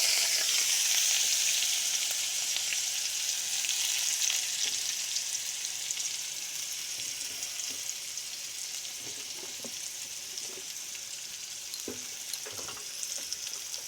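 Ginger garlic paste and onion fry in hot oil in a wok, a loud hissing sizzle that settles slightly over time, with occasional soft stirring taps and no voices.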